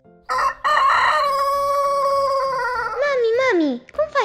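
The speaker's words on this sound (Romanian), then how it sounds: "Cocoșul face cocorigo!" A loud, sustained rooster crow rises and then falls away in one long call, with a brief squawk just after.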